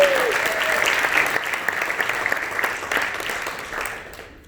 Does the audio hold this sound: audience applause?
yes